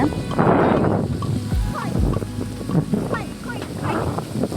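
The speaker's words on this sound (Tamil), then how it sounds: "காற்று பலமாக அடிக்குது" Strong wind roaring and gusting through jamun (java plum) trees, a broad continuous rush, with a voice speaking over it.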